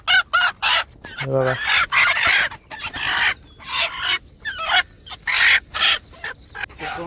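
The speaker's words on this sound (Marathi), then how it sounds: "कोंबड्या बघू शकता किती ॲक्टिव्ह आहेत" Pure country gavran chickens near a shed cluck in short, loud, choppy bursts, close by, with a rooster-like call briefly rising among them and a voice speaking once.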